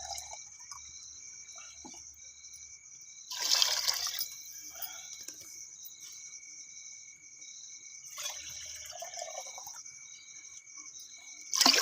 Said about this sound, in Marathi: पाणी ओतून घेते ह्याच्यात दोन अडीच तांबे